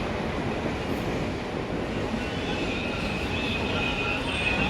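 A Mumbai slow local train at Santacruz station rumbles loudly and continuously nearby, with steady rolling wheel noise and faint squeals.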